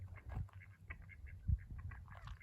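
Ducks on a homestead quack faintly in a quiet outdoor setting, a scatter of soft, distant calls with a couple of low thumps.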